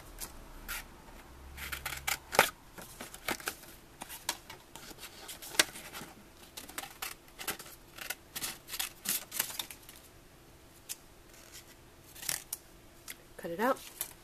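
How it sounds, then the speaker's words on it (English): Scissors cut white cardstock in a series of crisp, irregular snips and rustles, close up and fairly quiet, while someone talks. "Now I'm going to grab the scissors."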